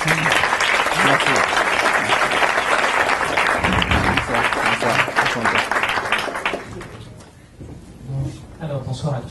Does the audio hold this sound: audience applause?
yes